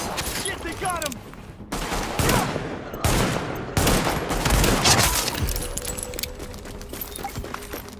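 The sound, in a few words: gunfire in the video game The Division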